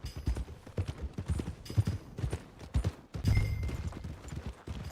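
Horse hooves clip-clop at a steady walking rhythm in Red Dead Redemption 2, close and even, with faint game ambience and no talking.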